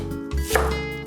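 A knife chops leek on a cutting board, a couple of close, crisp thuds within about a second, heard over faint background music.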